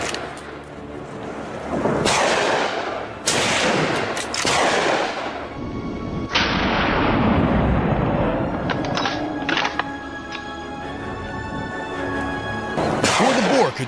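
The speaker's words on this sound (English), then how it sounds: "a rapid succession of shots rang out, felling the monstrous creature instantly" Rapid gunshots from hunters firing at a charging wild boar, several loud close bursts of shots spread across the span with echoing tails between them.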